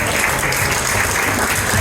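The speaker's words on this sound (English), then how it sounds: "give Sandra a massive round of applause" A studio audience at a corporate dinner applauds a cash prize winner, dense steady clapping filling the whole moment, loud and continuous.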